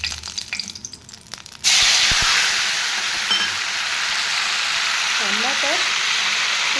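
Two bay leaves drop into hot oil in a wok for a spicy Odisha-style chicken gravy, setting off a sudden loud, steady sizzle that holds for several seconds, with a faint voice underneath.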